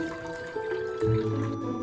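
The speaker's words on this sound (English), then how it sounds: "Then add half a bowl of water." Water pours from a bowl into a mixture of light soy sauce, vinegar and oyster sauce, making a soft, close trickle and splash that rises briefly midway, quiet and without any voices.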